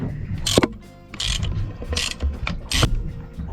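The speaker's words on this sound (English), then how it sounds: "This one you can actually get with a socket wrench, I think." Socket wrench ratcheting a fuel pump bolt aboard a boat at anchor, three short bursts of rapid clicking separated by quieter pauses, close up and without talk.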